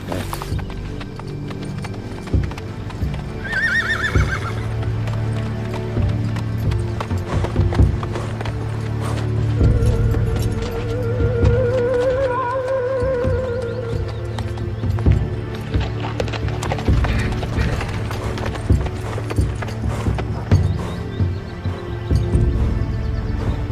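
Horse galloping with steady rapid hoofbeats throughout, a brief neigh early on, under a sustained musical score.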